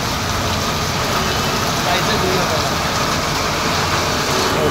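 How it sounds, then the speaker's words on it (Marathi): Heavy morning downpour in a rural area during monsoon season, a steady dense hiss of rain falling on surfaces throughout, loud and continuous without break. "सकाळचा पाऊस एकदम धुवाधार लागलाय"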